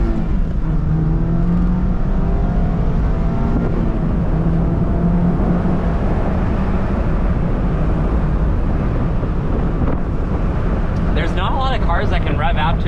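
A 2023 Mazda MX-5 Miata Club accelerating back up to speed after turning around, a steady engine drone with rising tonal sweeps under heavy road and wind noise, closing with a brief higher whine near the end.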